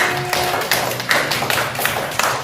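Classroom applause for a student presentation group, a burst of scattered hand claps and taps from a small class, moderately close and fairly brief.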